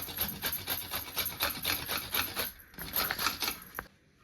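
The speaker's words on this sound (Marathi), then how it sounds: "आपल्याला बारीक किस करून घ्यायचा ह्याचा" Bitter gourd rubbed finely on a kitchen grater, with rapid, steady rasping strokes in a close, even rhythm that stop abruptly near the end.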